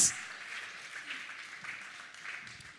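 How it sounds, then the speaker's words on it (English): An audience at Aba Fashion Week 2021 applauds to welcome Honorable Sam Hart with a steady wash of crowd clapping that holds throughout and slowly tapers off. No one speaks over it. "please put your hands together and welcome Honorable Sam Hart"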